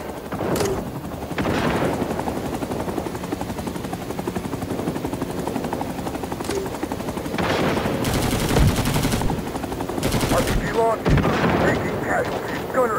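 Dense gunfire from Rising Storm 2: Vietnam with a Huey helicopter, steady bursts and booms running throughout under intermittent radio voices and speech.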